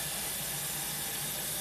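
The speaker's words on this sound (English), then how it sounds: "we're going to add water. And I'm going to put about 5 cups of water." Water streams steadily from a tap or pitcher into a pot of beans, a continuous even hiss and splash with no pauses and no voices over it.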